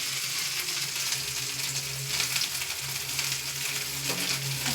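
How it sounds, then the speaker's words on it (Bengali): Chopped capsicum hits hot oil for a paneer chow mein, giving a steady, close broadband sizzle that holds for several seconds with a faint low hum underneath and no talking. "এখন আমি ক্যাপসিকামটা একটু তেলে ফেলে দিচ্ছি"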